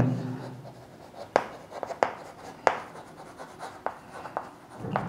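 Chalk or marker writing on a board while drawing a parallel circuit combination gives a series of sharp scratchy strokes and taps at an irregular, quick rhythm, heard close and fairly loud, with no talking.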